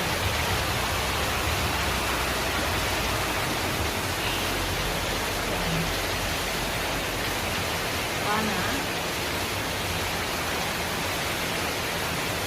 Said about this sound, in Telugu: వాన చూడండి ఎట్ట పడుతూ ఉంది